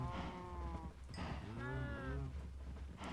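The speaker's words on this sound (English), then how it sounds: "we're going to attract some cows with the wheat" Minecraft cows mooing in a breeding pen, with several drawn-out, fairly faint moos and overlapping calls following one another against a steady low background.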